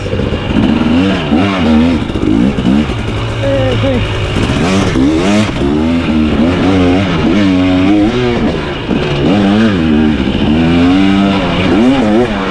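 A 2023 KTM 300XC TBI two-stroke dirt bike being ridden at Crow Canyon, its engine revving and dropping back again and again in a loud, continuous, close wail.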